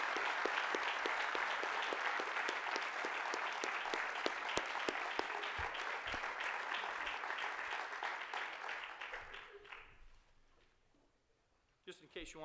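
Audience at a university hall of fame induction ceremony claps steadily for the inductees, a full crowd of applause that thins and fades out near the end, leaving a short quiet gap before a couple of final sounds.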